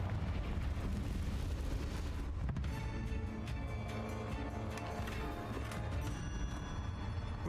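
Fiery blast from a Confringo spell in a Harry Potter video game, a loud burst around the two-and-a-half-second mark that rolls into a dense, crackling roar with layered booms continuing to the end.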